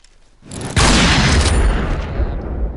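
A loud explosive grenade boom in a video game bursts in after a brief quiet moment, followed by a sustained roaring rumble and crackling debris that slowly fades.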